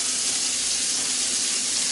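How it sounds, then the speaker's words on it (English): Meat sears in a hot pan, giving a loud, continuous sizzling hiss that runs the whole time without a break or voices. "So you want to hear that sizzle."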